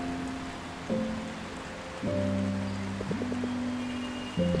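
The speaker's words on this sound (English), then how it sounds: "The rain in the city isn't that much better, you know." Rain falling in a city, a steady soft hiss running through the whole stretch beneath sustained tonal music, with no voices.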